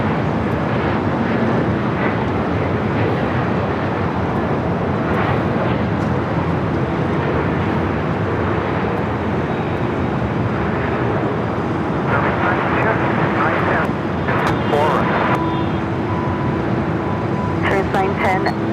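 A Delta 767 airliner taxiing at LAX and turning onto a taxiway, a loud steady engine rumble and roar with wind buffeting throughout, while radio voices talk over it.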